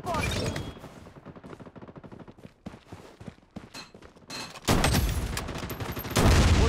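Rapid sniper and automatic gunfire in the mobile shooter game Project BloodStrike, dense bursts of shots with clicks and impacts, growing louder and fuller toward the end, with no talk over it.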